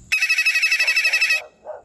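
A phone ringtone rings in a steady, evenly pulsed electronic trill for over a second, loud and close, then stops and a brief low sound follows.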